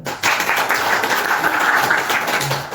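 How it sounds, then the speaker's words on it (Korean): Seminar attendees at a law firm's corporate-law practice event applaud two lawyers, a steady, dense wash of clapping that holds evenly throughout at moderate room distance. "다시 한번 우성 변호사님과 김나람 변호사님께 큰 박수 한번"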